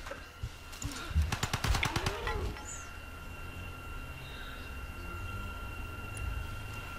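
Rapid burst of automatic gunfire from units in Civilization V, a quick rattling volley of about a dozen shots early on, followed by a quieter ambient background.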